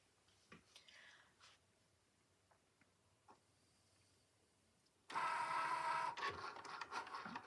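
A Cricut Joy cutting machine draws numbers with a pen, first making faint scattered taps and small mechanical movements, then a sudden louder stretch of whirring, rubbing carriage motion near the end.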